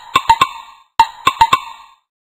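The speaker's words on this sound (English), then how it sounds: "You found a woodblock." Woodblock struck in two quick groups of hollow, bright knocks, three clicks then four, crisp and close with silence between and no talking.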